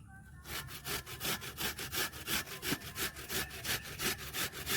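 Soft ash gourd rubbed against a hand grater in quick, steady back-and-forth strokes, about four per second, close and clear over faint background music.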